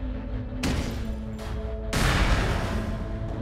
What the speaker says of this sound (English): Now spit out a few grenades.